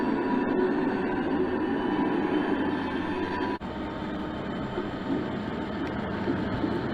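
A model train led by a GP30 in New York Central livery and a Penn Central F7B rolls along a layout, giving a steady, continuous running hum and rumble with a brief dip midway.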